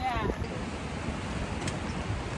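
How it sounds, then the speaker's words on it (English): Strong wind during a rain and wind storm at a camp in central Oregon, blowing as steady, fairly faint broadband rushing noise over the microphone, with a voice briefly present at the start. "the wind is awful."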